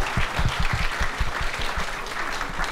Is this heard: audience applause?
yes